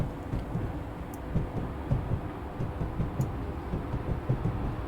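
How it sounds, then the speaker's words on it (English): Train running on rails in Train Sim World 2022, a steady low rumble carrying a fast, uneven clickety-clack rhythm of wheels over rail joints throughout, with faint higher clicks above. "Hearing the clickety clack of the train."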